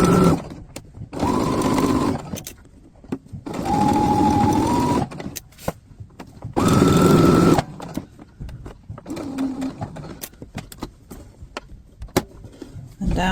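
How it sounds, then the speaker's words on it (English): Domestic sewing machine stitching a shirt collar seam from the notch, running in several bursts of steady motor whir separated by short pauses, close and fairly loud with no talk. "Start sewing from here where the notch is on that collar"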